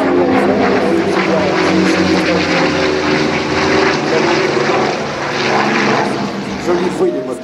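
Yakovlev propeller warplane flying past at an air show, a loud, steady engine drone with prop buzz that holds throughout, dipping slightly near the end.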